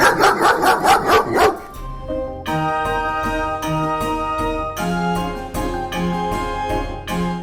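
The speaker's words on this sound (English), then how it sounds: "look at the cute little puppy in the dog carrier." A small puppy in a dog carrier yaps in a quick burst of several high barks, followed by bright electronic chimes and tones, inside a Las Vegas casino.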